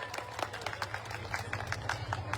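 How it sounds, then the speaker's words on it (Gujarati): Rally crowd at an Aam Aadmi Party gathering in Gujarat clapping, with quick, uneven hand claps spread across the hall in a continuous patter under a low background hum. "એમની માટે પણ એકવાર જોરદાર તાળીઓ થઈ જાય"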